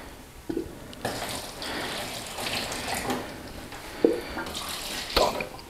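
Water poured by hand into shallow plant trays for a DIY humidifier box with towel and fan, a soft close trickle and splash with a few brief louder pours, alone and quiet.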